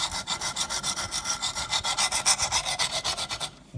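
Quick, even back-and-forth strokes of a stone against a knife blade on a Wicked Edge sharpener, a rhythmic rasping about six strokes per second, close and alone, stopping just before the end.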